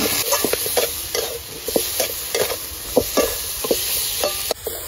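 Garlic, ginger and chili pastes fry with tomatoes in a pan, a constant loud sizzle broken by repeated scraping strokes of a spatula stirring, close and steady, with no voices.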